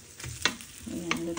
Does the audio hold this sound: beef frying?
yes